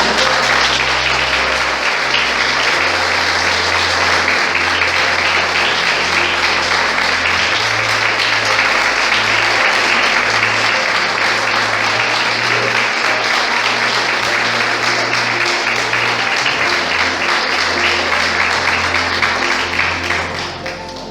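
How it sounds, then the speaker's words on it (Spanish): Church congregation giving a strong round of applause during a service, loud and continuous clapping sustained for about twenty seconds with a low musical hum underneath. "le puede dar un fuerte aplauso a Dios"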